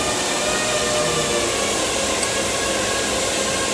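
A power tool cuts through a Nissan 350Z tie rod, a loud steady high-pitched grinding whine that holds constant throughout with no pauses or voices.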